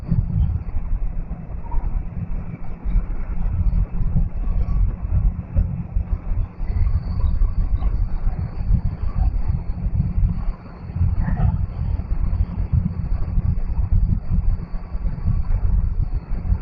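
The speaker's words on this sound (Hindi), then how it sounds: "बाइक चल रही है अभी 100 पे।" Motorcycle cruising at about 100 km/h on a wide highway on a ride from Delhi to Ayodhya, a steady loud roar of engine and wind rumble that never lets up.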